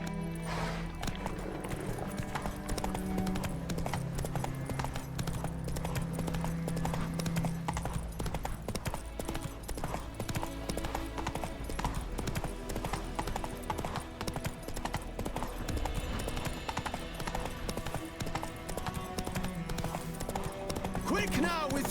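Roach, Geralt's horse in The Witcher 3, gallops with a continuous rapid clip-clop of hooves that runs the whole time under a dense bed of game music and ambience.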